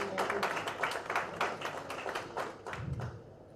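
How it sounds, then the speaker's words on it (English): Scattered hand claps from a conference audience in a hall at a cardiology meeting, a moderate, uneven patter of applause lasting a few seconds with a low rumble near the end. "So please give a big round of applause to each one of you."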